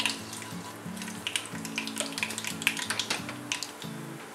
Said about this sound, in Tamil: கடுகு பொரிய ஆரம்பிச்சிருச்சு.